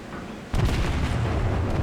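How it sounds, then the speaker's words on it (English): A naval broadside fired at the battleship Fuso in a video game, a sudden heavy boom that rolls into a long, loud, low rumble. "I go for one last broadside at the Fuso"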